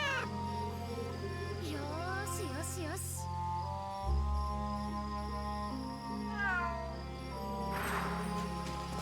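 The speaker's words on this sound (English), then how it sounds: "Oh, so this is a cat I just pet until I decide to stop petting the cat." A cat being petted in the game Fate/Samurai Remnant gives several drawn-out meows, a cluster early on and another a few seconds later, over steady game music and ambience.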